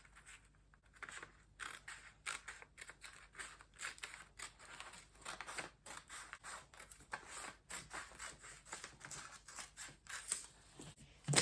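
Scissors cut out the neckline of a crop top from fabric, a run of quiet, close snipping strokes repeating in an irregular rhythm with no talking.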